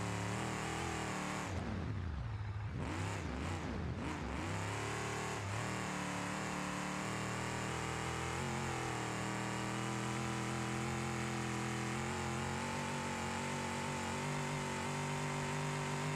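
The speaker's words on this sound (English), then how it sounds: "I was just fucking enjoying the sounds of this truck because this sound is just amazing" A Baja truck engine in the BeamNG driving game drones steadily and fairly quietly, with revs swooping up and down early on before settling into a sustained hum.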